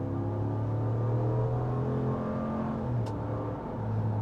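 A 2023 RAM 1500 Limited pickup with its stock exhaust accelerates, its engine note a steady deep rumble that climbs in pitch, drops briefly as it shifts, then pulls again, close and fairly loud with no talking.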